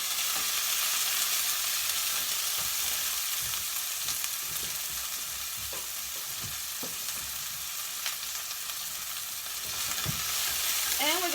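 Onions and leeks stir-frying in a pan over lowered heat for vegetable fried rice, a steady close sizzle with scattered scraping stirs and clicks throughout, no talk.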